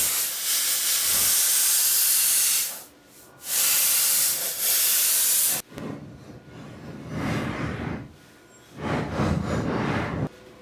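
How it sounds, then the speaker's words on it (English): Plasma cutter cutting through the steel frame of a 1966 Chevrolet C10 truck, with loud, steady hissing bursts that start and stop in several long stretches, close by. "we've got a clearly defined line that we're going to cut out with the plasma cutter now"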